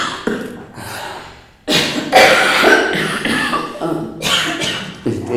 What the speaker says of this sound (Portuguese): Eu vou parar de novo porque eu preciso tossir.